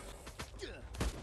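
A few sharp gunshots from an SVD sniper rifle in the mobile survival game Last Day on Earth, fought at a police station, cracking out irregularly over faint background game noise.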